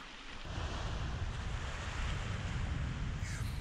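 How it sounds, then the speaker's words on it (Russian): Sea surf on the shore near Alushta in Crimea, a steady loud roar of breaking waves mixed with wind noise on the microphone, with no voices. "Вот так и пойдем по берегу моря, снимая все время море, слушая шум прибоя"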